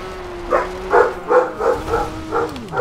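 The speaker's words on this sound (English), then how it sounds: "And of course my dog is going crazy." A pet dog barks six times in a steady rhythm, each bark close and clear, over a continuous low electronic hum.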